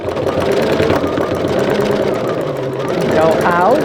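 A sewing machine hums steadily and close while quilting along a seam, with a voice speaking over the motor for most of the stretch.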